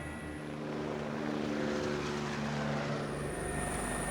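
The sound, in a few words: helicopter in flight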